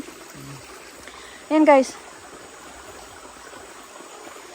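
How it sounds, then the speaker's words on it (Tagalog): Continuous broadband rush of a flowing stream at a campsite in a panoramic park, steady and moderately close, with a brief voice speaking and calling over it midway. "May sapa sila."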